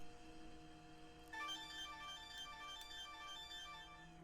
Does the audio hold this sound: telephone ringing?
yes